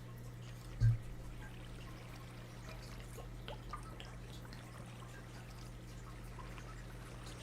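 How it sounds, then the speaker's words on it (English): Water is poured and sipped close by, a brief gurgle near the start, then a quiet steady background with a low electrical hum. "Let me drink some water."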